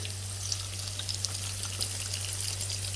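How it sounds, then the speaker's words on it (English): Paneer cubes stir-fried in a karahi give a steady, close sizzle and hiss with faint crackles throughout, and no voices. "Stir fry them for about 2 to 3 minutes."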